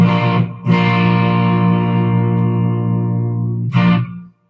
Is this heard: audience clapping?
no